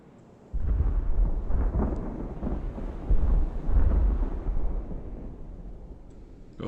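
Artillery fire in the Ultimate Admiral: Age of Sail naval battle game, deep rolling booms that rise suddenly and surge in heavy waves, sounding like distant thunder, with no speech.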